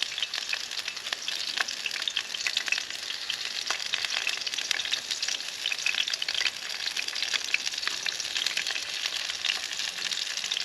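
Onions and jalapeno peppers fry in olive oil outdoors in snow, giving a steady, close hiss and sizzle with scattered crackles over the whole stretch.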